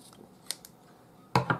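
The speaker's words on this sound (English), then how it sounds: "So just use a pair of scissors, get them in quite close to the knot," A pair of scissors snips excess paracord close to a knot, giving a few faint clicks early on, then two sharper, close cutting snaps near the end.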